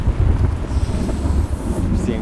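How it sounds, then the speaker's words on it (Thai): Thunder in the Start Survey video game, a low rolling rumble that swells and fades for a couple of seconds, fairly loud and wind-like with no speech over it. "ฟ้าร้องน่ากลัวโคตรเลยเว้ย"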